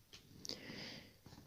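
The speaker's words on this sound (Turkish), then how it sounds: "Kedimiz de oldu." A cat's meow from Minecraft, a short bright cry followed by a drawn-out purring note, fairly close and alone without talk.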